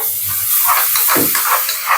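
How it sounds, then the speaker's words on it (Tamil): Ginger garlic paste frying in a pot for one-pot mixed vegetable rice, giving a steady close hiss and sizzle with steamy bursts throughout, no talking. "இஞ்சி பூண்டு பேஸ்ட் சேர்க்குறேன்"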